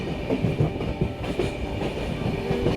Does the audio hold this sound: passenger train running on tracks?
yes